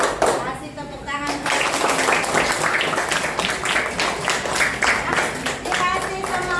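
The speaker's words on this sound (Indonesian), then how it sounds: "Tepuk tangan. Tepuk tangan. Kasih tepuk tangan." A group of children claps hands in quick bursts in a classroom while voices chant and speak over the clapping, close and lively.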